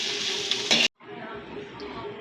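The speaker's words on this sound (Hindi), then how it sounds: "हमने भिंडी को फ्राई किया है" Okra (bhindi) fries in a pan with a steady close sizzle and some stirring, cut by a brief silent gap before the frying noise resumes.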